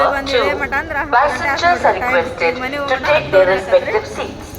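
A noisy crowd fills Hubli railway station, many voices overlapping in a constant busy hubbub.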